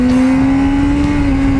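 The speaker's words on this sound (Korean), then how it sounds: "제가 고RPM으로 달리면 어떻게 되는지 소리 한번 들려드릴게요." A motorcycle engine is held at high revs, above 10,000 rpm. It is a loud, steady, close-up whine with a rough rumble beneath it, alone for under two seconds.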